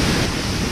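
Surf rolling onto the beach at Mahabalipuram in Tamil Nadu: a steady, loud wash of breaking waves with wind rumble, brief and continuous.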